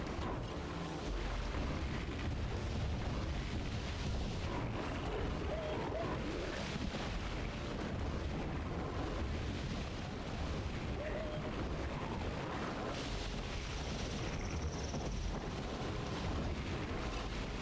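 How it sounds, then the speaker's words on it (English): Gas-filled mushrooms bursting into poison clouds in the fantasy shooter Hexen, heard as a dense, continuous rumbling roar of muffled blasts that never lets up, with no voices over it. "the little mushrooms on the ground explode into clouds of gas"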